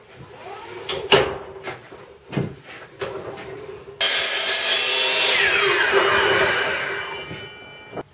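A 12 inch miter saw cuts through a wood board, its loud, steady whine starting abruptly after a few knocks and handling noises, then spinning down to a fading whir.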